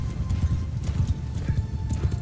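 Horse hooves clip-clop in the Mount & Blade 2 Bannerlord video game, a quick irregular run of soft thuds close by, with a faint whinny mixed in and no talking.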